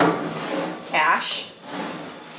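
The metal ash drawer of a wood cookstove slides and scrapes briefly, a short rubbing rasp at moderate level amid quiet room noise.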